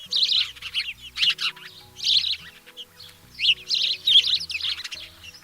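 Several house sparrows give repeated bright chirps in uneven bursts, fairly close and clear, with no talking.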